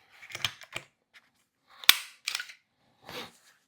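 An unloaded firearm being taken apart after weekend shooting, giving a handful of sharp metallic clicks and snaps in small separated groups, close and crisp against near silence.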